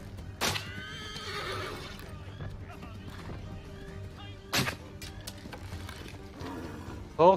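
In Assassin's Creed III, a horse gives a loud, close whinny early on, while hooves clop and scattered game sound effects burst in at intervals.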